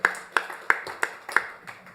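Sparse, evenly spaced claps from a comedy club audience applauding producers at a Q&A, a handful of sharp, close hand claps roughly every third of a second fading out.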